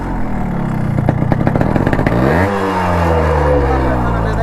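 A Yamaha RX100 two-stroke motorcycle engine revs loudly up close, a rattling burst of throttle blips that rises and then settles into a strong, droning idle.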